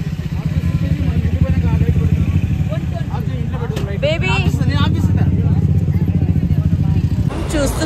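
A motorcycle rides through crowded evening street traffic, its engine droning steadily up close while people talk over it throughout, with a brief burst of other traffic noise near the end.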